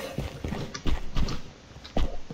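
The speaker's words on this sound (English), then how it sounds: "I can hear your footsteps, Blub." Footsteps in a video game, a short run of loud, close, hollow thuds coming in a quick uneven rhythm.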